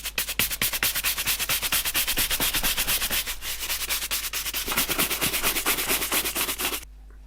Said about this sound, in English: So I'll give it a quick brush with the horsehair brush.